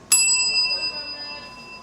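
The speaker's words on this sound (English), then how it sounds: "There's a bell for me to ring" A counter bell at a bakery struck once, a bright metallic ding with sharp attack and a ringing tone that decays slowly across the clip, close by with faint background room noise.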